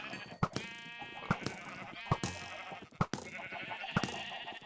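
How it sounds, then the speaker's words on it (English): Sheep in the Minecraft video game bleat repeatedly, several short, clear bleats in a row with sharp clicks between them, fairly close and without talk. "And sheep."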